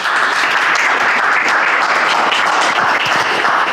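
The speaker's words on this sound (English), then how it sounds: "Now let's give a big round of applause for Patrick Yanahan, Master of Ceremony," Loud, sustained audience applause for a master of ceremonies at a university pitch competition, dense and even throughout with no speech over it.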